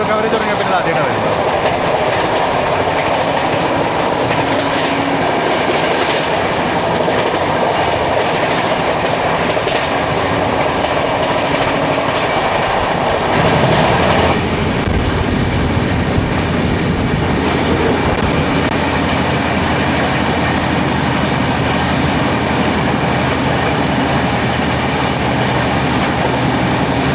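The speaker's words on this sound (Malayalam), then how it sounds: "അജ്നിയുടെ 37270 ദുർഗിലേക്കുള്ള ഹംസഫർ എക്സ്പ്രസ് ആയിരുന്നു." The Humsafar Express from Ajni to Durg rushes past a moving train, a loud, sustained rattling roar with rhythmic clickety-clack of wheels that shifts in tone partway through, heard close up without talk.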